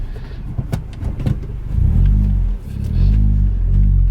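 A cheap Audi S3 runs at first start-up after an engine install, its engine rumbling close by and rising in a couple of revs above a steady idle.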